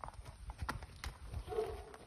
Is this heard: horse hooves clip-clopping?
yes